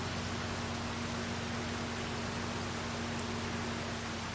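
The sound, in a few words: rain in Farming Simulator 25 video game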